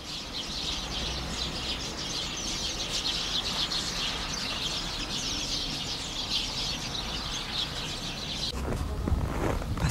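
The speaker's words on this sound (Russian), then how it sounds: "Послушайте, как они щебечут." Small winter birds chirp and twitter continuously in a berry-laden tree beside a shop, a dense, bright chorus heard up close, with a few louder crunching footsteps near the end.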